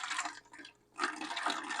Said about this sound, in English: when I pour my tea into my large pitcher that I'm going to use to mix everything in, that strainer is going to catch these mint sprigs